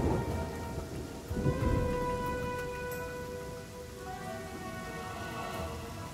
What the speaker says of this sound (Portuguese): O vilarejo é interrompido por um trovão.